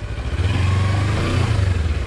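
ADV motorcycle engine revs hard and steadily on a wooded ATV trail, a loud, close, throbbing mid-pitched drone holding for about two seconds with no talking.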